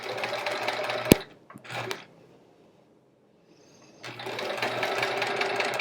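A sewing machine stitches a quilt block in two rapid buzzing runs, separated by a short pause with a soft click and near silence, close and fairly loud.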